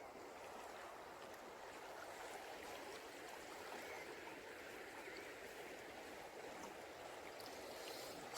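The Tech river flowing outdoors, a faint steady broadband rush of moving water that continues evenly throughout with no voices.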